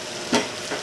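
Shrimp in oyster sauce sizzle in a pan while a quick stir brings a sharp scrape, then a softer second one.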